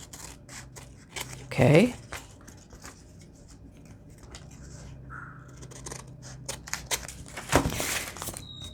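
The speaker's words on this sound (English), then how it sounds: "Now I'm going to flip it over and trim these off." Scissors trimming paper scraps for a junk journal pocket give a couple of crisp snips close by, over quiet rustling, with a brief spoken word.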